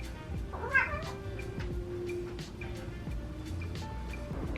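A single short cat meow sounds close by early on, followed by soft rustling and faint clicks in a quiet room.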